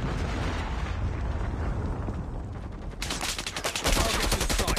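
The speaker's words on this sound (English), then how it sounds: "Predator missile inbound." A Predator missile strike in Call of Duty Mobile: a continuous loud roaring rumble that swells into a crackling, explosive blast near the end, with no talk over it.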